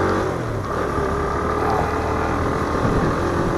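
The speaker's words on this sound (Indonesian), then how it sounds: "Hari ini saya menggunakan motor Benelli 150cc." Steady, loud drone of a Benelli 150cc motorcycle engine while riding on a morning trip, mixed with wind rush, continuous and even throughout.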